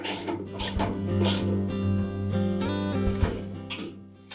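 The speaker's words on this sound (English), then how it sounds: "Use your ratchet to tighten it in place." A hand ratchet tightens the agitator bolt on a Whirlpool washer, quick clicking pawl strokes in short bursts over a steady low mechanical hum, close and clear.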